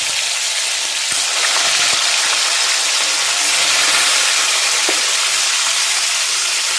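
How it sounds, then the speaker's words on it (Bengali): Koi fish frying in hot oil with bay leaf gives a loud, continuous sizzling hiss close up, with a few faint clicks from the pan and no speech. "এবার আমি তেজপাতাটা দিয়ে দেবো, দিয়ে এবার মাছগুলো ছেড়ে দেবো এই তেলের মধ্যে।"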